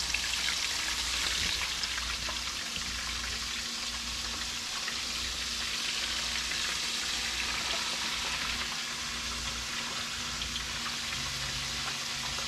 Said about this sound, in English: Give that a good stir, that way they get to floating around real good.